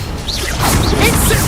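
A Bombarda blasting spell in Hogwarts Legacy, a short crash-like impact with swishing whooshes, loud and close, lasting about a second and a half with no talk over it.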